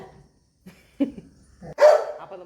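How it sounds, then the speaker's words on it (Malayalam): A dog near a temple-bound outing gives a few short, separated barks, followed by a louder, longer yelping bark close by. "ഒരു പട്ടി കയറി"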